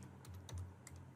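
Quiet keystrokes on a computer keyboard, a short run of several soft, irregular clicks close by with no talking.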